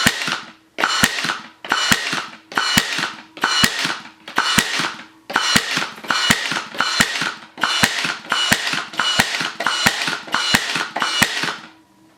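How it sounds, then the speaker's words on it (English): A Ridgid 18-volt cordless 18-gauge brad nailer fires nails in rapid succession, about fifteen loud, sharp snaps at a steady rhythm, each followed by a brief mechanical whir, close up with no talking. "Then you have rapid fire mode."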